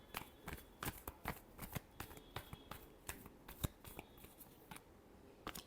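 Tarot cards being shuffled by hand, a soft, quick flutter of riffling and slapping card edges repeating steadily and close by, fairly quiet with no voices.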